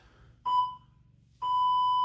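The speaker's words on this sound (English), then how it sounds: "There's your beeps." Two electronic timer beeps, a short tone followed by a longer sustained one, clean and loud against near silence.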